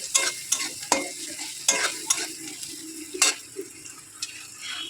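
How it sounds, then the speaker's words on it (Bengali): Spices with salt and turmeric being stirred and fried in a pan: a soft steady sizzle under repeated sharp scrapes and taps of a spoon against the pan, close and fairly quiet, with no talking. "হলুদ গুঁড়ো দেওয়ার পর কিছুক্ষণ একটু নাড়াচাড়া করবো একটু ভাজা ভাজা করতে হবে"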